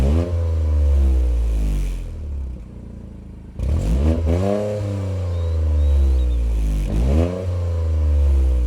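A Toyota GR Corolla Morizo's small turbocharged three-cylinder engine revs repeatedly, its low exhaust note rising and falling in sweeping pitch, with a brief lull before climbing again.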